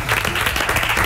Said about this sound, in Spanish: un gran aplauso para todos los muchachos